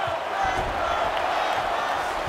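A crowd in the EA UFC 2 video game roars and cheers at a steady, fairly loud level during a fight, a continuous broad wash of voices from a distance, with no commentary heard over it.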